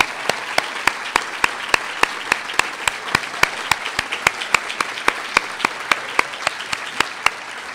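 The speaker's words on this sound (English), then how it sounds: "give them all a big applause" Audience applause at an awards ceremony, heard as steady, dense clapping from a crowd with sharp periodic accent claps, sustained evenly throughout at moderate loudness with no talk.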